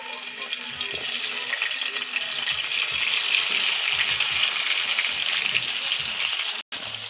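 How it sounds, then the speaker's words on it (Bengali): Pomfret fish frying in a pan of hot oil, giving a steady, fairly loud broadband sizzle that holds throughout with no talk, broken only by a brief dropout near the end. "এবার আমি মাছগুলো তেলে ভাজিয়ে নেব।"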